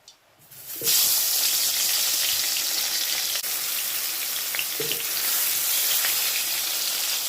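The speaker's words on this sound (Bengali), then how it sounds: "ওর জন্য আমি মাছ ভাজা তেলে বেগুনটা ভেজে নিচ্ছি" Brinjal sizzles steadily in hot, reused fish-frying oil in a wok. A loud, continuous crackle and hiss starts almost at once and carries on evenly close by, with a brief clatter partway through and no talking.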